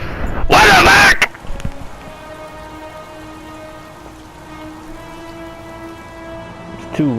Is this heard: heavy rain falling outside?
yes